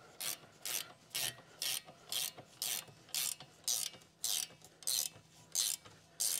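A ratchet wrench clicks in quick, evenly spaced strokes, about a dozen rasping bursts in a steady rhythm, while snugging small rear suspension bolts on a Jeep Cherokee; close and fairly quiet.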